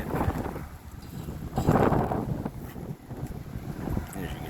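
Strong gusts buffet a camera microphone outdoors during heavy winds in Hamilton, producing loud, uneven rumbling bursts that swell and fade, with faint voices underneath.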